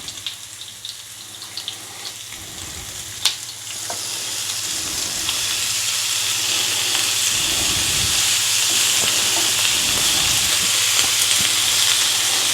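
Three rashers of smoked back bacon fry on the middle griddle section of an all-in-one cooking pan, the sizzle swelling from a soft crackle into a loud, steady hiss with a few clicks and scrapes.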